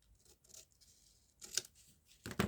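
Scissors trimming paper for a journal pocket, a few soft snips building to two sharper, louder cuts near the end, close by and with no talking.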